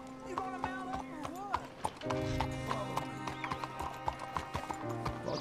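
Horse hooves clip-clopping steadily on a trail in Red Dead Redemption 2, with a neigh or whinny among the steps, under game music and character dialogue.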